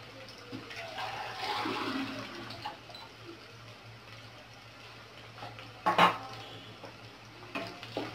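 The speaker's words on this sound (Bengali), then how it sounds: "পেঁয়াজটা একটু ব্রাউন কালার হয়ে আসলে আমি তখন একটু পানি অ্যাড করব।" Water is added to browned onions frying in a pan for a chili rohu fish curry, making a brief watery rush and sizzle followed by a later short splash, set against a steady low hum.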